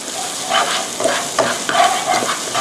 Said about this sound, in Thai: พอพริกกระเทียมของเราเริ่มหอมแล้วนะคะ